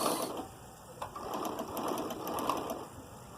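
A sewing machine stitches with black thread in a steady, close mechanical whir with a fine ticking rhythm, running without pause and with no voices.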